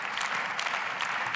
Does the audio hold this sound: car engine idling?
no